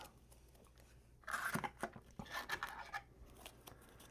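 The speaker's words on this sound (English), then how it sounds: "shuffle up our encounter deck" A deck of Marvel Champions encounter cards is shuffled up close, giving a burst of crisp, papery riffling and snapping that lasts about two seconds, with no talking.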